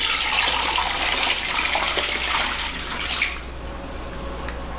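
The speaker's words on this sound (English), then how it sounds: "Now I'm just gonna pour." Chicken and noodle soup pours from a heavy pot in a steady, splashing liquid rush close by, tapering off into a quieter trickle toward the end, with no talking.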